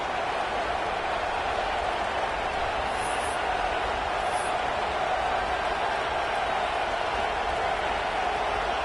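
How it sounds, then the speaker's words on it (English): A stadium crowd cheers during a big fourth-down play in a college football video game, a steady, broad wash of roaring noise that holds evenly throughout, with no distinct voice standing out. "This crowd bringing serious noise on this huge fourth down play"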